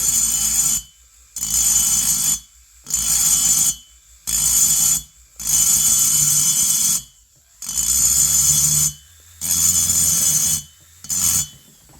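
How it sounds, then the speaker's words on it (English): A rotary grinding tool ports the cylinder of a Stihl 026 chainsaw, running in about eight loud, high-pitched bursts of a second or so, each separated by short silent pauses, close up and alone. "Now, I'll just grind it across."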